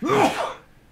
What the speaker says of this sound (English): Oh shit, gonna sneeze.